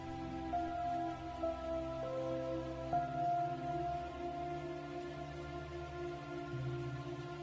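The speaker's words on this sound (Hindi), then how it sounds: "बारिश की हर एक बूंदे" Rain falls steadily as a soft, continuous wash of drops, faint and even throughout, with a few low tonal hums underneath and no voices.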